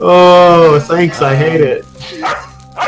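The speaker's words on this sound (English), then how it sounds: "Sorry about the dog noise." A dog barks and yelps during a tabletop Dungeons & Dragons session held over voice chat, partly masked by a voice talking loudly over it.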